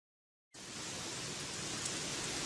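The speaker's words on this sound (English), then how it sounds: "Wow, look. It's raining cats and dogs again." Heavy rain begins after a brief silence and then pours as a dense, even hiss, close and continuous, with no voices.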